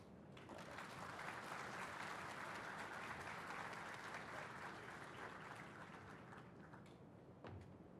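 Sustained audience applause for the president after welcome remarks, a dense wash of many hands clapping from start to finish, steady and full, tapering slightly near the end.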